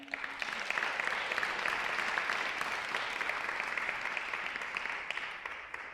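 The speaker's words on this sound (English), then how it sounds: "I'm going to ask for another round of applause to the team at Isabel here." Audience applause at a women's awards event, a soft, steady wash of many hands clapping at a distance, holding evenly and fading slightly at the close.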